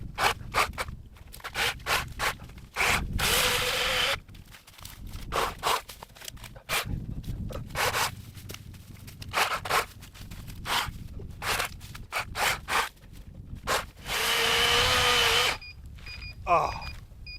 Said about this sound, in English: I'm going to cut as much as I possibly can off of that tree until she goes dead.